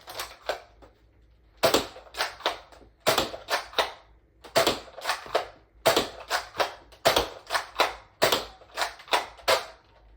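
A Nerf Dinosquad Raptorslash blaster fires Dart Zone Nitro Shot darts in a steady series of sharp, close clicking shots, each with a brief mechanical rattle, spaced about half a second apart with short pauses between groups.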